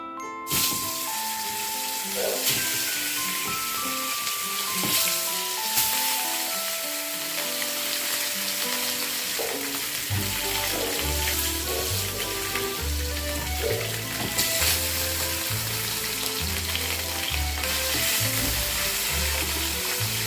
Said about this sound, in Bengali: কড়াইয়ের তেল গরম হয়ে গেছে, এবার মাছগুলোকে দিয়ে দেব।